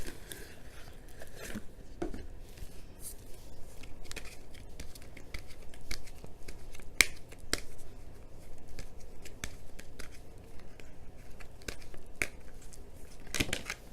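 Oracle cards are shuffled and drawn in a quiet room, a faint run of soft papery riffles and scattered crisp snaps and flicks over about fourteen seconds.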